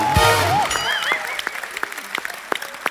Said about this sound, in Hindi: बेगम जान की पूरी स्टार कास्ट के लिए जोरदार तालियां।